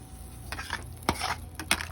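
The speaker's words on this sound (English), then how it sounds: "I got to get a spoon to stir up the stuff" Spoon stirring grits in a cooking pot, a few short scraping strokes with soft clinks of metal against the pot over a faint background hum, close and fairly quiet.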